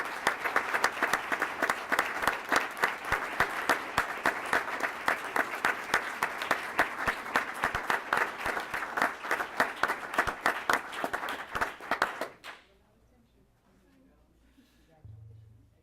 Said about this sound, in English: Would you please congratulate them?